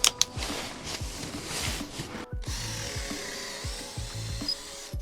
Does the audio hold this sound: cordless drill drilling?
yes